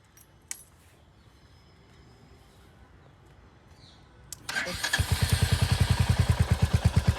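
A Royal Enfield Hunter 350 motorcycle starts after a few seconds of near silence, then settles into a loud, close, rhythmic thumping exhaust idle with an even pulsing beat.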